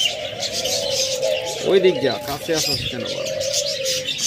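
Pet doves and lovebirds in a sale cage coo and chirp close by, a low rolling coo running beneath a person talking and some brief bird calls.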